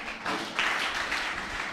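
An audience applauds panelists at a sustainable tourism event, a soft, continuous wash of clapping from a moderately sized crowd heard at some distance and lasting the whole short stretch.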